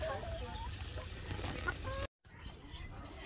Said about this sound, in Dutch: Er zitten echt kippen in, ja.